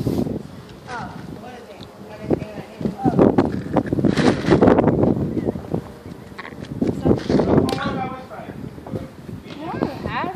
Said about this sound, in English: that wind feel good